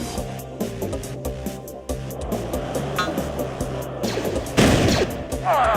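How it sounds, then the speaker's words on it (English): Blaster cannon fire in the Star Wars Galactic Battlegrounds strategy game: a rapid run of sharp repeated shots amid a busy battle mix, with heavier bursts near the end. "This is Blaster Cannon."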